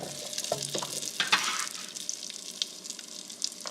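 Potatoes dropped into a skillet of melted olive oil and butter, sizzling loudly and steadily up close with a few scraping stirs and clatters early on.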